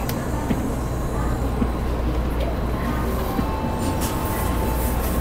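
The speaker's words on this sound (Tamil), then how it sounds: "புல்லட் ட்ரெயினில் போகணுன்னு நினச்சோம், ஏறியாச்சு." Cabin noise inside a Japanese bullet train at about 300 km/h: a steady, muffled rumble and rush of air with faint clicks, continuous and even, with soft voices now and then.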